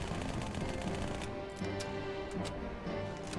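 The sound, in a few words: SMG firing until empty in Halo 2 video game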